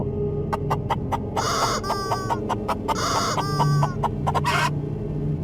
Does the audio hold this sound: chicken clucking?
yes